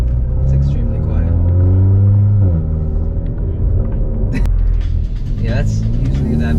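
A 2021 Hyundai Veloster N accelerates from inside the cabin as its exhaust valve opens, giving a loud droning engine note with rising and falling pitch and a gruff rumble, with voices in the car.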